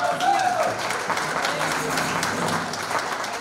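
Applause from the audience at a Beninese community New Year's party in New York, a dense, steady patter of many hands held at an even level for a few seconds, with a voice rising briefly at the start.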